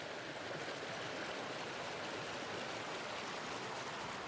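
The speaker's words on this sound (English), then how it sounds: "there's still streams clean enough to drink from straight out of the creek" Steady rushing flow of a clean creek stream in the Yukon along the Dempster Highway in autumn, a continuous broadband water sound with no pauses, close and fairly loud, heard alone.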